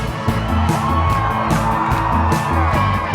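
Loud TV studio audience cheering and whooping for a performance on a reality show, with crowd yells running over rhythmic music throughout.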